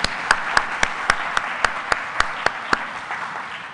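Applause at a robotics conference awards session: a near, crisp set of regular individual claps stands out above a softer spread of audience clapping, lasting a few seconds.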